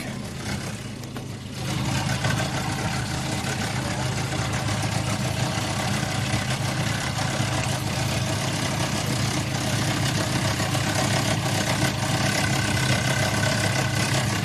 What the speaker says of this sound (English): there's another noise in the engine